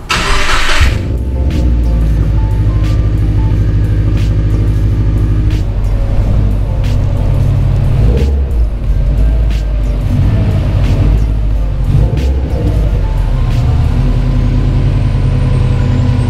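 Federal 595 RSRR tires give off a loud, steady road roar and low drone from inside a moving car, a constant rumble with no talking.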